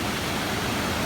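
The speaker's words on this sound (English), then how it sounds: "I love that sound when the waves are breaking on a beach that's all stone." Waves breaking on an all-stone beach, a loud, dense wash of surf and rolling pebbles that fills the moment evenly with no pauses, and no voices.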